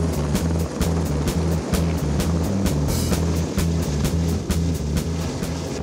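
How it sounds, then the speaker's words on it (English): An Airbus H125 helicopter flies nearby over a ski lift construction site in Montana, its rotor blades thumping in a fast, steady rhythm over a constant engine drone. "This Heli Alps aircraft, working on a ski lift construction site, is an H-125."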